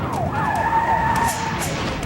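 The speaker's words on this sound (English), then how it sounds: "cars have stopped because of the sirens" Police sirens wail continuously during a car chase on busy city streets, a loud rising-and-falling tone sustained over steady traffic noise throughout.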